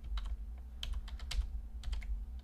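Keys clatter on a computer keyboard in quick irregular bursts of typing, close and fairly quiet over a steady low hum, with no talking.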